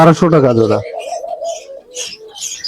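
A king pigeon gives a soft, low coo, heard close by just after someone speaks, followed by faint rustling and small bird sounds.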